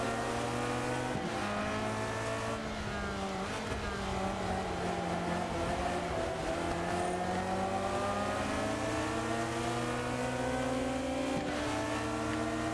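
Race car engines rev in a Solar Crown video game race involving Italian cars such as Ferrari and Lamborghini. They roar continuously with rising and falling pitch as the cars shift gears, and no one speaks.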